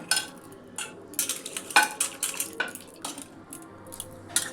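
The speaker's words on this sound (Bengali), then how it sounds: "এটা ভালো করে ধুয়ে নেব, আবার একটু জল দিয়ে ধুয়ে নেব, নোংরা বেরিয়েছে।" Dried Bombay duck fish being washed in water in a bowl, with busy close splashing, sloshing and clattering that comes in uneven bursts throughout, with no talking.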